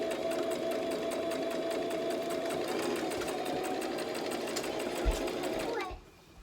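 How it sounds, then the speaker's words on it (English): Sewing machine stitching a fabric face mask, running steadily and close for several seconds with a fast mechanical whir, then stopping abruptly. "And then I just keep on sewing."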